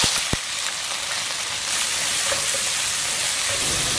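Diced meat sizzling and frying in hot oil in a wok, a steady loud crackling hiss that runs throughout, with a sharp clink near the start.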